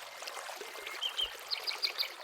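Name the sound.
fast-flowing river water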